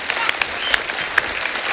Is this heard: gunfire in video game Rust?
no